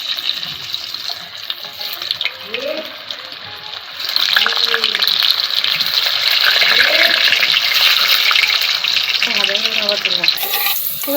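Potatoes fry in oil on a clay stove for mutton dum biryani, a steady loud sizzle that swells after the first few seconds, with occasional splatter and faint voices and background noise underneath.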